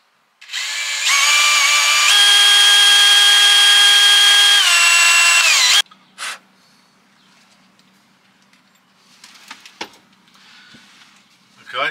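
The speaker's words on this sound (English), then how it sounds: "So we need to drill a 4mm hole in here." A power drill bores a 4mm hole, whirring loudly for several seconds, its pitch rising as it speeds up, then stops, followed by faint scraping and handling noises.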